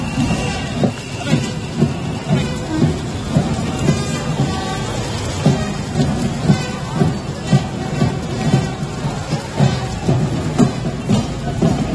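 Heavy rain pours steadily and loudly over a street during a uniformed volunteer route march in Yadgir, with low rumbling and dense patter throughout.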